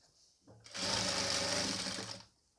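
A sewing machine stitches a seam along nighty fabric, one steady loud whirring run of about a second and a half after a brief quiet start, then stopping.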